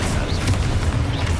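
Rumbling, booming blast from an Expulso spell in Hogwarts Legacy, a steady low roar lasting the whole moment with no clear single hit and no voices.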